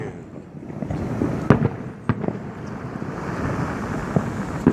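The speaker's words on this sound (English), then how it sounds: "They're getting glorious, these fireworks." New Year fireworks over Vancouver, British Columbia, bursting at a distance as several sharp booms and cracks, with wind buffeting the microphone throughout.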